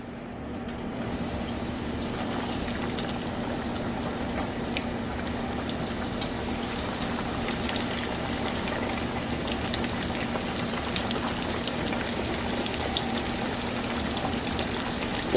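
Green tomatoes frying in hot grease in a pan, a continuous dense sizzle and crackle with a steady hum underneath, even and close throughout.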